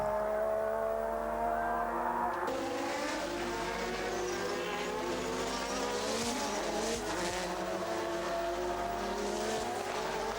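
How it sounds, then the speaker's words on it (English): Formula One race cars from the 1986 Grand Prix season roar past in a sustained, loud blur of high-revving engine whine with shifting pitches, continuous throughout with no talk. "he went after Prost anyway, overtook him, and went into second spot."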